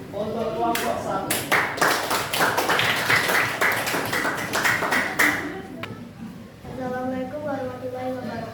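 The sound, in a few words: audience clapping for group 1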